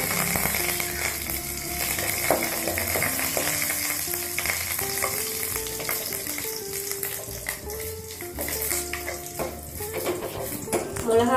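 Dried red chillies and curry leaves fry in hot oil as a tempering for mudakathan keerai rasam, making a steady, dense sizzle with light crackling that runs throughout, with other faint sounds mixed underneath.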